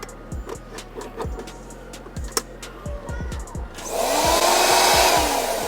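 An Eureka Forbes handheld portable car vacuum cleaner, powered from a car's 12-volt socket, sits among clicking handling noises before its motor starts with a loud steady whirring hiss that continues to the end.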